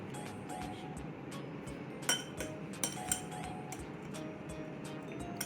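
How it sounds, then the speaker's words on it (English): A spoon stirring sugar into a homemade bubbly orange juice drink, light clinks and ticks against the glass at an irregular rhythm, faint and close. "we're gonna get sugar and we're gonna stir it again"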